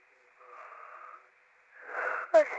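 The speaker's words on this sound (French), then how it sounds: "je suis désolée de bailler comme ça" A woman's soft, breathy yawn up close, drawn out in two long airy breaths that swell and fade, ending with a brief voiced catch.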